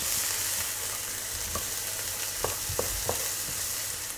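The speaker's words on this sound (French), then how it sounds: "On va rajouter l'oignon. On va rajouter l'ail aussi. On fait revenir pendant à peu près 3-4 minutes" Onion and garlic fry in olive oil in a pan with a constant dense sizzle, and a few short spoon knocks and scrapes come in the second half.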